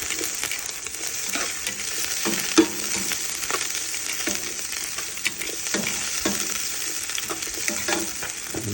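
Onion and garlic sautéing in a pan, a steady close sizzle broken by the scrape and clatter of stirring, one sharper knock standing out midway.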